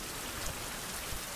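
Heavy rain in the survival video game Survival: Fountain of Youth, a dense, continuous hiss of falling water spread evenly across the short stretch, with no voices.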